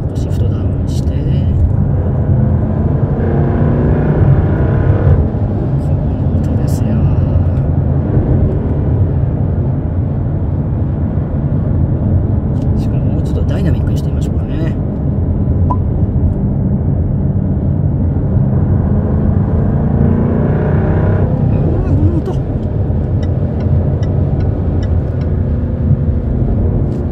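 A Jaguar F-Type with a 5.0-litre V8 rumbles steadily from inside the cabin while downshifting, with short rises in engine note as gears drop, and someone talks continuously over the drone.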